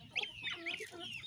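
Chickens and chicks on a small farm kept alongside geese and ducks cluck in short, close bursts, several calls overlapping at moderate loudness with no voices.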